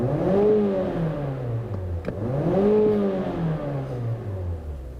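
Mazda 6 GT with a 2.5 liter engine revving twice, each rev climbing then falling in pitch, loud and close with no talking.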